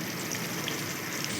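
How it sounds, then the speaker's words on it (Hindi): Sliced onions fry in oil with cumin seeds for aloo bharta, producing a quiet, even, rain-like sizzle that holds steady without pause. "अब जो हमने 4 अदद प्याज ली थी उसमें से 2 प्याज हम अभी डालेंगे और इसको थोड़ा सा पकाएंगे"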